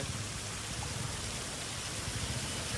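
Steady, even rain falling outdoors, a dense continuous hiss with no breaks, fairly faint and with no voices.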